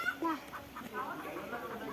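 A chicken gives a few soft, short clucks close by at a farmyard, faint and intermittent over quiet background noise.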